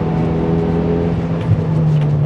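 A 1999 Mitsubishi Evo VI Tommi Mäkinen Edition holds full throttle through a constant-radius corner, a loud steady engine drone heard close from inside the car.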